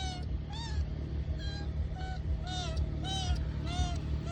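A rescued kitten meows again and again in short, high, rising-and-falling cries, close by over a low hum.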